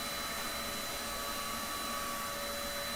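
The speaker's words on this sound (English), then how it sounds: "Vacuum underneath the printer bed." A vacuum cleaner runs continuously under a raised 3D printer build plate, giving a steady, close, whining roar with no pauses.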